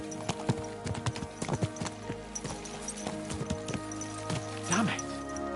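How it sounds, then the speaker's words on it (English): Horses galloping in a PS5 video game, with quick uneven hoofbeats clopping throughout and a whinny near the end, while someone talks over them. "Let's really spur these horses on, eh?"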